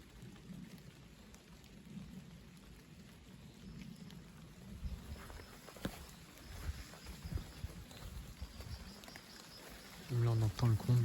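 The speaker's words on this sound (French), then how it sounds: "Là, on entend le grondement déjà de la pluie." A heavy thundery rain shower rumbles steadily as a dense, constant roar of rainfall with low rumbling throughout. Occasional sharper gusts and splashes cut through the wash, and a low hum rises near the end.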